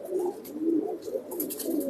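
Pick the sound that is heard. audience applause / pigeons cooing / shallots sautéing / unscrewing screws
pigeons cooing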